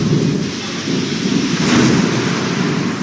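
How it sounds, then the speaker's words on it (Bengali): Thunder rumbles continuously through a heavy afternoon rainstorm in Kolkata, a dense, loud roar of downpour and low rolling booms with no pause. "মুহুর্মুহু পড়ছে বাজ।"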